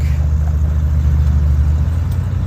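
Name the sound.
truck driving on a farm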